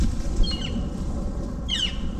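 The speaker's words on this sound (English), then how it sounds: "Freaking birds are so loud." Outdoors among bamboo in a drying rain forest, two short bursts of bright bird calls cut through a low, steady background, loud and fairly close, with no talking.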